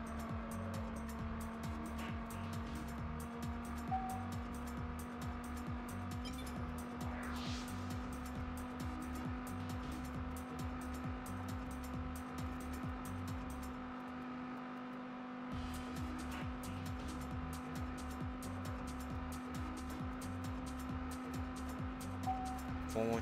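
A racing car engine in the video game Test Drive Unlimited drones steadily and loudly throughout, with shifting revs, a brief dip partway through and occasional tire noise, no talking.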